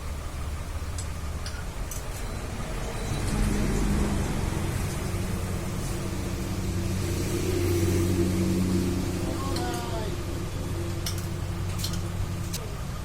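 Bajaj Discover 150cc motorcycle engine with a worn cam running close by, a steady idle with a rapid ticking tapping rhythm and slight swells in revs.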